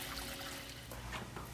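Boiling water pours and trickles steadily into a pot, a continuous liquid splash with a low background hum throughout.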